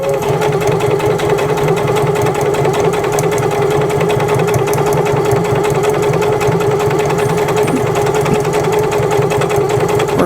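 Sewing machine stitching an eyeglass case along a straight seam, a steady loud mechanical whir running continuously and fast from start to finish with no pauses.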